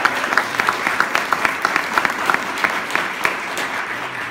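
An audience at a community energy forum breaks into steady applause, a few sharp individual claps standing out in a regular beat above the crowd's dense clapping.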